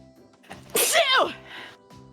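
A single sharp sneeze bursts out close and loud in the middle, with quieter music playing throughout behind it.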